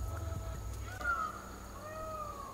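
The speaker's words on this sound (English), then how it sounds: "Sounds like a cat." Thin, wavering cat mewing calls rise and fall a few times over a low rumbling background hum, fairly faint and at some distance, in a forest at night.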